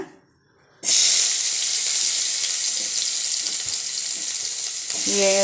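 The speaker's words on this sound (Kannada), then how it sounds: "ಈರುಳ್ಳಿ ಮತ್ತು ಟೊಮೊಟೊನ ಹಾಕಿ ಫ್ರೈ ಮಾಡ್ಕೊಳ್ಳೋಣ" Onion and tomato drop into hot oil in a pan and burst into a loud, steady sizzle that holds without a break, with faint stirring underneath.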